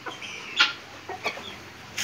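Tame ornamental chickens, Java chickens, give a few short, close clucks spaced irregularly over about two seconds, alone against quiet background noise.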